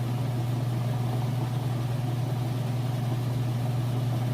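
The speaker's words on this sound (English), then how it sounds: "Here it is spinning at full speed." A Whirlpool washer spins at full speed, giving a steady, loud, continuous motor hum and whir with an even drone and no pauses or talking.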